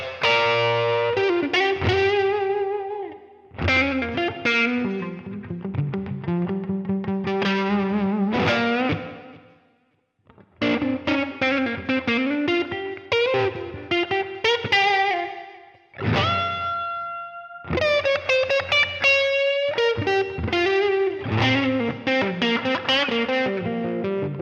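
Electric guitar through a Fender Deluxe amp model on a Line 6 HX Stomp, lightly overdriven tone, strummed chords and single-note runs with reverb and delay, broken by brief pauses between phrases.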